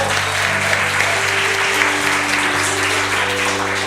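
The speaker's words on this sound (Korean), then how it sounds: "우리 하나님께 다시 한번 크게 큰 박수 영광을 드립니다" A church congregation applauds steadily throughout a Sunday worship service in Daejeon, a dense, even wash of many hands clapping at close range, with sustained organ or keyboard tones underneath.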